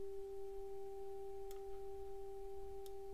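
Ableton Operator synth oscillator with a slow attack, a faint steady pure tone fading in softly and holding, with two tiny clicks.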